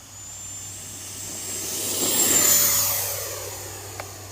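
A Freewing 90mm F-16 version 2 RC jet with a 6s setup flying past, its ducted-fan whine swelling to a loud peak overhead and then fading away.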